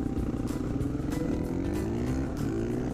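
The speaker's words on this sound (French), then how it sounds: "Le bruit des motos, il y en a qui aiment pas" A 450 four-stroke supermoto motorcycle engine runs steadily nearby with a rough, throbbing rumble and slight pitch rises, as if idling and being gently revved, with no talking.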